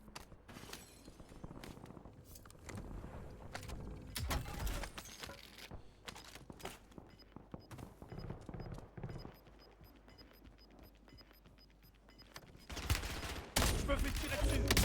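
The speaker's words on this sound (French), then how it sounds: "Je me fais tirer dessus." Gunfire in a battle royale video game, rapid bursts and scattered single shots, some distant and some close, with loud volleys toward the end and a voice speaking now and then.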